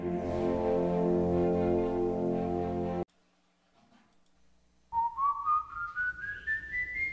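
Eerie whistling tied to the legend of the Silbón from the plains. A long steady tone is held, then silence falls before a rising, wavering whistle sweeps upward, clear and alone with no voices.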